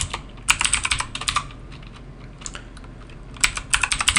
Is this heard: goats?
no